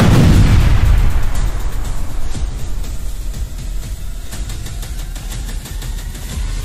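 A rocket blast tears apart a sandbag fortification, a heavy low boom at the start that decays into a long rumbling roar and crackle of debris, loud and close, with no voices.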